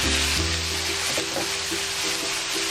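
Rice frying in a hot pan for easy fried rice with spinach: a steady, loud, close sizzle throughout, with repeated soft scraping and tapping as it is stirred.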